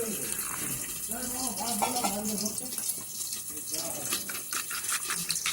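Water poured into cumin powder in a Bengali kitchen to mix a paste, a steady near splashing gush running through the whole stretch, with some background sound.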